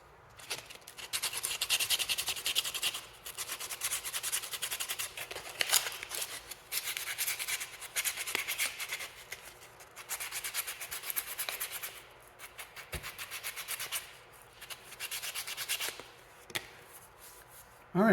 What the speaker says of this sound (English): We're going to hand sand it a little bit.